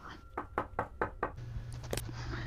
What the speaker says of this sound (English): And then I heard a knock on the door.